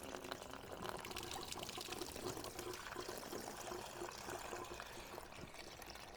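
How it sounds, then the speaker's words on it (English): Water drains steadily and continuously from a bicycle into a bucket, a soft splashing flow, fairly faint and uninterrupted with no voices. "now I've got the sound of running water"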